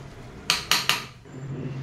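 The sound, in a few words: mashing cooked vegetables in a pot for pav bhaji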